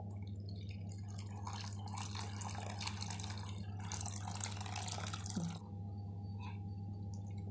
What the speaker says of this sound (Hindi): अभी डाल रही हूँ मैं पानी।